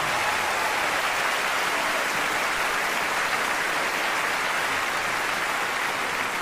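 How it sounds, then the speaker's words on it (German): A crowd gives steady, dense applause for choirs on stage at a concert. It is a loud, continuous wash of clapping with no break and no speech. "Ja, gebt ihnen einen Applaus."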